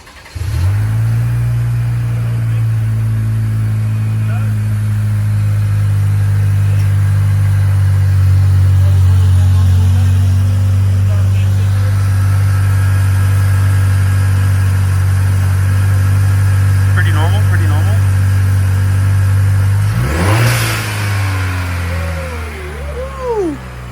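A 2023 Chevrolet Colorado engine with a blow off valve installed idles loudly and steadily up close, then revs sharply near the end with a brief rising burst before settling back.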